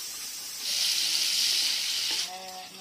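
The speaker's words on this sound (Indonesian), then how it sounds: "kita tumis bumbunya" Spice paste sizzles loudly in a hot pan while being sautéed; the steady frying hiss swells up after a quieter start, holds for well over a second, then drops back, with faint tonal background sounds at the end.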